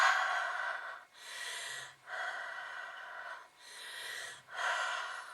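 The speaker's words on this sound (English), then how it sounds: "I'm breathing a lot more on this one because it's quite big." Heavy breathing while stamping with markers, four or five long, close, loud breaths with brief pauses between them, rhythmic and unaccompanied.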